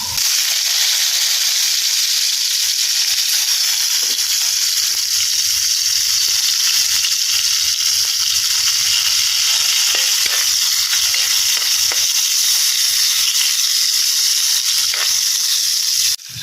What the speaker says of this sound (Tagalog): So unahin muna natin ang ating tuyo. Prito lang natin sandali